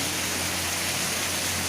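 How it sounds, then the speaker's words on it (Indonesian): Heavy rain pours steadily onto a flooded village yard in Cikukulu, a dense, even hiss of falling water with a low rumble and no speech. "Hujan,"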